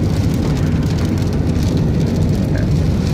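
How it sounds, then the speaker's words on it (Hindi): Torrential rain pours down steadily during travel, a dense, loud and unbroken hiss of drops drumming on surfaces with no pauses and no voices. "अब जनाब बारिश तेज़ हो गई है"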